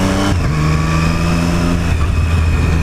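Loud, close engine drone from a Triumph Street Triple 765 RS motorcycle on a test ride, holding a steady tone that shifts pitch briefly partway through.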